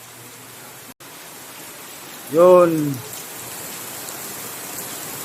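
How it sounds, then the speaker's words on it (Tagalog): Steady rain falls outdoors, a broad even hiss lasting throughout, with one short spoken word in the middle. "Kaso guys, umuulan sa labas."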